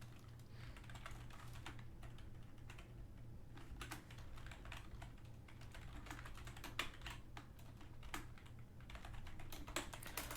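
Fingers type steadily on a computer keyboard, dense rapid clicks running continuously at close range over a constant low electrical hum, with no one speaking.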